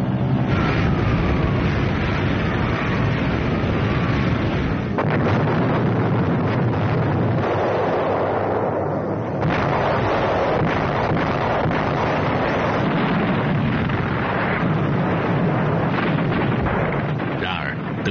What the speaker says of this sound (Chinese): 情急之下，盟军轰炸了这座位于山顶的历史悠久的修道院。